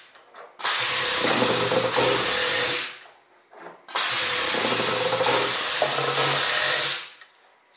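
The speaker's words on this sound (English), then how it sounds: "these first holes I'm dimpling here are the 632 screws for the fuel tank" Pneumatic dimpling of #6-32 screw holes for the fuel tank in a Bearhawk experimental airplane's aluminum wing skin: two loud, close bursts of steady broadband air hiss, each about two and a half seconds, separated by a short pause.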